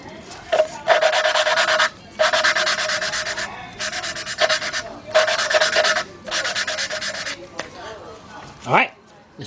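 A suction cup lapping tool rubs an engine valve against its seat on a 2003 Jeep Liberty 3.7 cylinder head. Loud, rhythmic bursts of gritty rubbing, each lasting a second or two with short pauses between, then a brief voice near the end.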